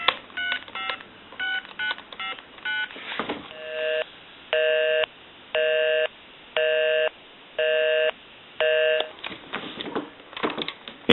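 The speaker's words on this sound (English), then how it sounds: "We'll call my number, and it'll be busy." An AT&T 530 corded telephone dials a run of quick touch-tone beeps, then a loud busy signal pulses in even on-off bursts, followed by handset clatter.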